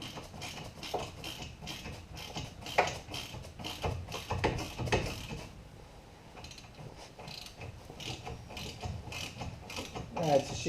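A ratchet with a 3/8 Allen socket clicks in quick repeated bursts while tightening brake bolts on a 1970 Chevy Camaro, with faint metallic creaks, soft and close.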